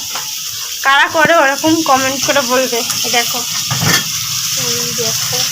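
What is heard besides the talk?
fish frying in a pan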